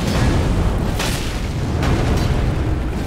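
A giant fires a powerful shot in the video game Elden Ring, a heavy, loud booming rumble that fills the whole stretch with dense low roaring and a few sharper impacts.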